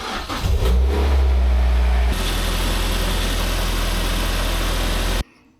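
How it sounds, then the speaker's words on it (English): A car engine cranks and catches after an oil change, revving loudly for a couple of seconds before dropping to a steady close idle that runs on until it cuts off abruptly. "It is worth at this point starting the car just to see if it leaks."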